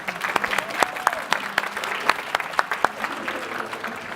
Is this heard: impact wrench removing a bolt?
no